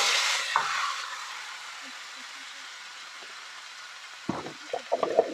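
Food dropped into a hot pan on a camping stove inside a day van hisses loudly at first, then settles to a faint sizzle, and a few light clatters of utensils follow near the end.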